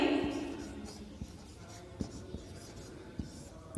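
Chalk tapping and scraping on a board as a theorem is written, a handful of sharp knocks spread irregularly over a few seconds, fairly close, following a short spoken phrase at the start.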